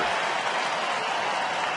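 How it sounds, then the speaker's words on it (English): A large baseball crowd at a Tampa Bay at Detroit game lets out a loud, sarcastic cheer after a strike call, a dense, sustained roar of voices and applause filling the whole stadium without pause. "a very loud, sarcastic cheer"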